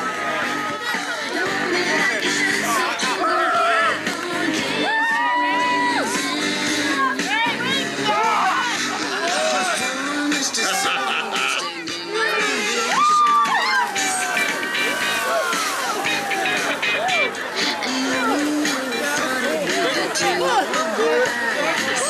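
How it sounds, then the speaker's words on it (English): A winter festival crowd cheers and claps over continuous loud babble, with shouts, whoops and overlapping voices filling the whole stretch. "Give them a big round of applause."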